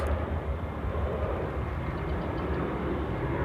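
Aircraft rolling down the runway at Sydney Airport, a broad continuous roar with deep rumble, steady and loud throughout, no voices.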